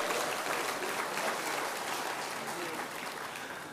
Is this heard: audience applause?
yes